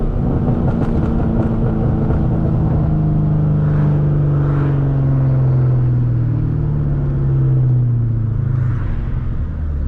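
Engine of a 2003 Ford Mustang Cobra Terminator rumbling loud and steady while cruising at sunset, rising and falling in pitch as it revs through several gentle pulls with a continuous low drone.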